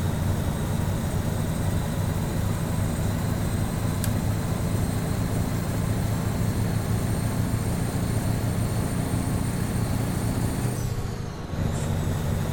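Steady drone of a 300-horsepower truck engine in Euro Truck Simulator 2, held at high revs under constant load for the whole stretch, loud and close, briefly dipping near the end.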